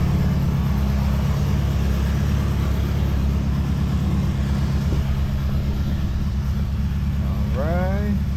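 A Ford car's engine runs in the morning with a deep, steady rumble close by, sounding like a rough idle, and a brief chirp near the end.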